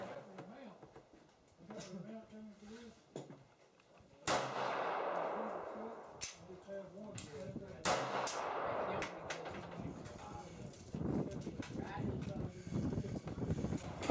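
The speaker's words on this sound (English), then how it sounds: "I'm here testing out the P-64, and I'm going to shoot it first." A P-64 pistol fires several loud, sharp shots at an outdoor range, each crack followed by a brief decaying tail, with people talking between and under the shots.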